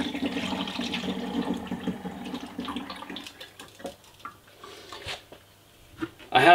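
Boiled water from a kettle poured into a mead fermenter holding honey solution and nutrient, a steady close splashing pour for about three seconds, then trailing off into a few drips and light clinks.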